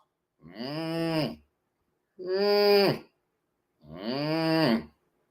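Cows moo three times from a played recording, each a long, drawn-out call separated by short pauses of silence, clear and fairly close.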